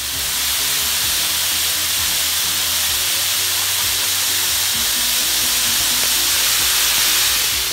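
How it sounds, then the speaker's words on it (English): Zucchini, corn and tomatoes sizzle on an outdoor grill in a continuous loud hiss with faint crackles underneath, steady from start to finish. "Now we're cooking this zucchini salad over the grill"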